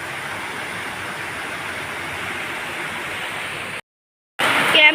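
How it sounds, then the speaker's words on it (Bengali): Steady rain pours down in a dense, even hiss that continues without letup, then cuts out abruptly for about half a second and resumes near the end. "দেখো কেমন বৃষ্টি শুরু হয়ে গেছে।"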